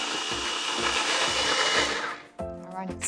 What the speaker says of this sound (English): So I'm about to puree this to add to my wet ingredients